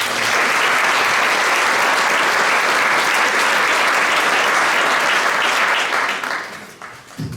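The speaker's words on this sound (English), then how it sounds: "We can give these guys a round of applause." Sustained applause from the audience at a high school spring band concert, loud and dense with steady clapping for about six seconds before tapering off toward the end, with no voices over it.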